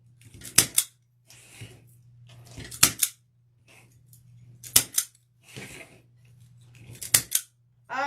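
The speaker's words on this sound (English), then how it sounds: "cut these tails, zip tie tails off" Sharp scissors snip through plastic zip tie tails on a deco mesh Easter wreath on an oval board, several crisp metallic clicks in a loose rhythm over a steady low hum, close and fairly loud.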